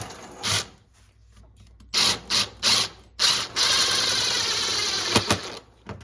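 A screw is driven into the plastic pull-start recoil housing of an outboard boat motor, heard as short ratcheting bursts that grow into a sustained grinding whir near the end, close and fairly loud.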